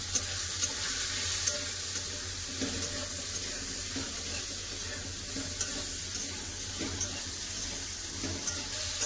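Steady sizzling of pumpkin and vegetables frying with salt and turmeric in a pan, with occasional scraping and stirring clinks, close and continuous with no talking.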